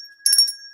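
A bright notification bell ding sound effect, one short metallic chime ringing out briefly over a faint steady tone, with no talk.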